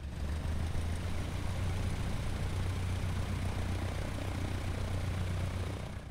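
A Cessna 152 propeller engine in Microsoft Flight Simulator drones with a steady low hum, loud and constant throughout, with no talking.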